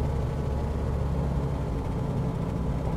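A small airplane's engine, throttled down on approach in Microsoft Flight Simulator 2020, holds a steady, dense, low drone throughout with no pauses.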